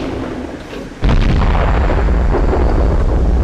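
A T67 tank cannon in a video game fires one loud, heavy boom about a second in, and its rumble and crackle carry on to the end with no speech.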